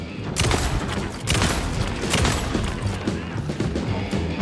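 Gunfire rings out at a monster in the video game Alan Wake 2, loud repeated bursts of shots crashing in close succession, with a player's voice speaking between them.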